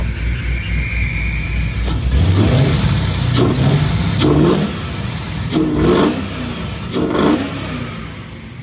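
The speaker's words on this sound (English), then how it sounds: "coming down to an idle now. It's got a lope to it." Chevrolet C10 V8 with a swapped lopey cam settling toward idle, loud and close, with a rough uneven rhythm and several swelling pulses of revs over a steady rumble.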